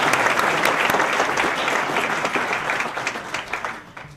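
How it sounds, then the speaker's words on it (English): A big round of applause from the audience at a think-tank event hosted by CSIS, dense and loud clapping sustained throughout before gradually thinning out and fading toward the end. "I'd like everyone to give them a big round of applause."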